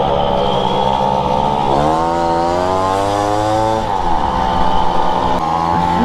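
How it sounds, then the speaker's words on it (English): A loud two-stroke Tomos moped engine drones steadily close by in a downtown street, its pitch rising and falling through revs across the whole stretch. "Loud ass mopeds downtown, man."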